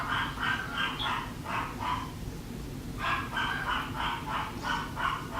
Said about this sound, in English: I apologize if you can hear my dogs barking in the background